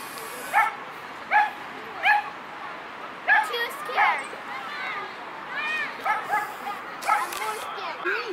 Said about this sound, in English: Oh, there's dogs here and everything.